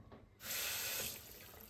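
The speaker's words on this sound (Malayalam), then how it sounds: "അതുകൊണ്ട് കുറച്ച് വെള്ളം ഒഴിക്കാം." Water poured from a tap into a cooking pot for a Kerala-style curry, a close, steady gushing hiss that starts abruptly, holds for under a second and then eases to a softer trickle.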